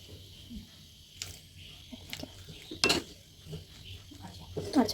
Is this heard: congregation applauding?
no